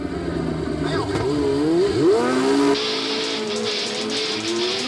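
A racing motorcycle in a WERA endurance race at Portland International pulls out of the pits, its engine revving loudly through rising and falling gear changes alongside other machines.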